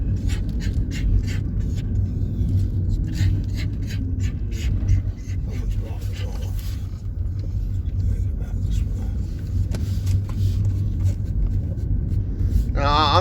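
A car rolls along a road at Fort Ritchie, Maryland, giving a steady, close, low engine and tire rumble that holds throughout with small shifts in level, plus a few faint clicks and rattles.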